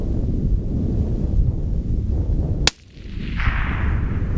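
One sharp, loud crack from a long-range rifle fired from the prone position outdoors, sudden and alone, followed by a brief quiet and wind noise rustling the microphone.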